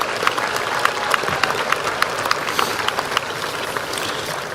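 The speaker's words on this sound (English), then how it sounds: "Can I have a round of applause for everyone I've thanked?" A high school graduation crowd applauds in a sustained, busy patter of many hands, with individual sharp claps popping out over a steady roar.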